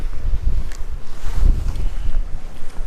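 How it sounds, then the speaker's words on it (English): Strong morning wind buffets the microphone on a riverbank while bass fishing on the Sacramento River, a continuous loud low rumble with gusty surges and no speech. "It's a bit windy this morning."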